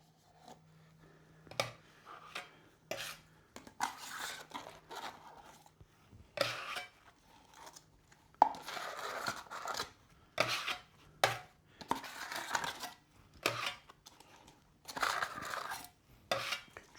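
A trowel scraping and scooping Mapei glitter epoxy grout out of a small plastic tub, heard as repeated short gritty scrapes and knocks separated by pauses, close and fairly quiet.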